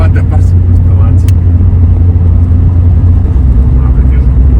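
A Ford Fiesta RS Turbo engine drones loudly and steadily, heard from inside the car as it drives a rally-style road.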